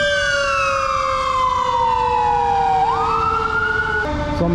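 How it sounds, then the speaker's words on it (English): Emergency sirens, police and fire, blare loudly on a Los Angeles street in Compton: a close, sustained wailing tone sweeping slowly downward, then rising, with another siren pattern cutting in near the end. "there's so many sirens going on right now. I hear police too."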